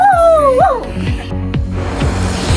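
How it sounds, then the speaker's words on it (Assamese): A dog yips and whimpers close by in a high, wavering whine, then gives a few short sharp barks as the clip goes on. "সি মোক ভুকি আছে একদম"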